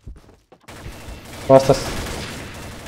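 Gunfire in the shooter game Combat Arms, a burst of sharp close shots followed by a rattling fusillade, with someone speaking briefly over the action.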